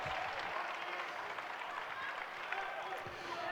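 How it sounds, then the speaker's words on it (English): A loud crowd at a youth boys' football cup final applauds and cheers in a steady, dense wash of clapping and voices that holds throughout. "It is a very loud crowd today"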